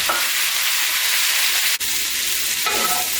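Potatoes fry in a cast iron pan for a Caribbean corned beef hash, giving a loud, dense, continuous sizzle with scraping and stirring and a brief dip partway through.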